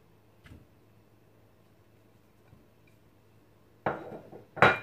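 Pieces of mango drop into a saucepan in a home kitchen, a couple of soft early taps, then two louder clattering bursts close by as the fruit and utensil hit the pan.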